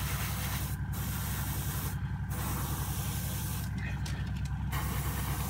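A black undercoat is airbrushed onto a miniature figure in short hissing bursts, several sprays separated by pauses, close and steady over a constant low background hum.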